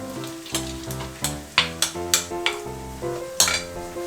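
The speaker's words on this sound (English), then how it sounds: "we're gonna add our rice." Rice tossed into a hot pan for Korean egg fried rice, giving a steady sizzle with a series of sharp scraping stir strokes and clanks of a utensil against the pan.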